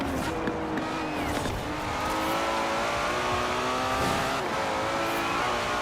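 Engine of a car in Forza Horizon 4 revs and accelerates steadily through gear changes, loud and continuous, with occasional tire noise and no talk over it.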